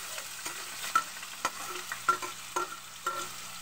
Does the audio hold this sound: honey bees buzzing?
no